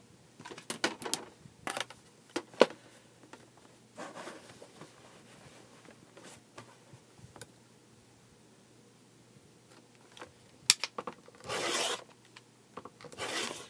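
Quilting fabric is recut with scattered short cutting and rubbing strokes close by, separated by quiet pauses, with a longer rasping pass near the end.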